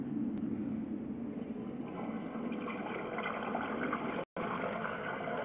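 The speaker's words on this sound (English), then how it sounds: "the flush water from the toilet has emerged in the clean out area" Toilet flush water rushes steadily through a sewer line and out at the cleanout, a continuous close, hollow gushing and trickling with no voices and a brief dropout near the end.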